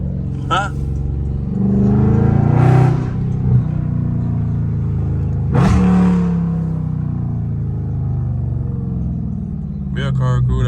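A loud catless Dodge Charger Scat Pack rumbles deep and close in traffic, swelling in two revs with sharp downshift blips, while someone talks over the engine throughout.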